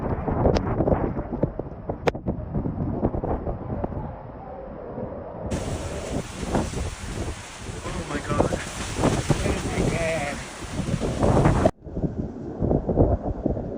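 Hurricane Milton's winds in Florida roar in a long, loud stretch of heavy, gusting rush that buffets the microphone, broken into sections with rumbling storm noise around it and some indistinct voices.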